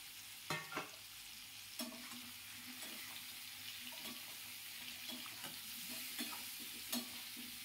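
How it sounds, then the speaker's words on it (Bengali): Pumpkin and boiled potato pieces frying in a pan over medium-low flame, a soft continuous sizzle with intermittent stirring clicks and scrapes, fairly quiet and close. "কুমড়োটা প্রায় ভাজা হয়ে এসছে। এবার টুকরো করে রাখা আলু, সিদ্ধ আলু, এগুলো দিয়ে দিলাম।"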